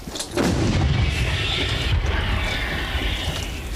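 Heavy booming blasts of M777 howitzer fire roll out in a dense, continuous rumble, loud and reverberant with no clear gaps between shots.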